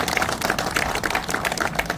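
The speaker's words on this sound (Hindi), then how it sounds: "प्रतिभागी 4 नंबर के लिए जोरदार तालियां बजाइए" Applause for participant number 4 at a safety street play: a steady patter of many hands clapping together, continuous and fairly close, with no speech over it.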